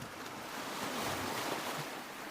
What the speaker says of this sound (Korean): 집채만한 파도가 덮쳐 배를 들었다 놨다